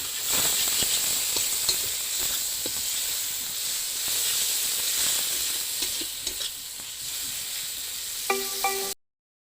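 Tomatoes fry in a pan with turmeric powder, a close, steady hissing sizzle broken by occasional stirring clicks before a brief tonal beep and sudden silence.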